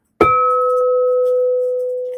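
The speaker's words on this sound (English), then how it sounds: "let's do another ding for that" A single bright bell ding strikes once and rings out with a long, clean, slowly fading tone, used as a sound effect for a super chat, with no talking over it.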